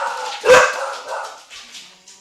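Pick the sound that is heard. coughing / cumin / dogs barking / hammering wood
dogs barking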